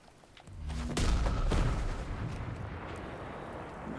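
Heavy booming gunfire in the video game Sniper Elite 5 erupts after a moment, loud overlapping shots that roll into a long rumbling decay.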